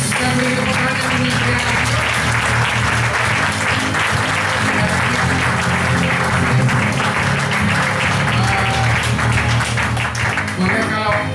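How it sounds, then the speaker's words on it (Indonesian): Audience applause at a 2016 promotion event fills the room loudly and steadily, dense clapping sustained throughout with voices murmuring underneath. "Kita beri tepuk tangan ini."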